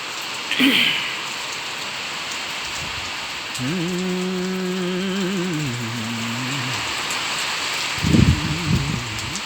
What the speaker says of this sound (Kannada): ತುಂಬ ಮಳೆ ಅಬ್ಬರ ಇದೆ